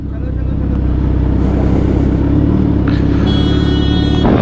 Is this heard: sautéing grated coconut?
no